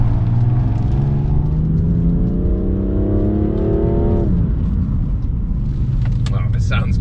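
A BMW M4 Competition's S55 engine revs hard on track, its note climbing steadily for several seconds before dropping sharply at a paddle gear change of its 7-speed DCT, loud and close.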